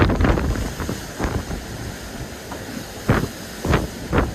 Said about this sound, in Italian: Abbiamo più di 50 nodi di vento.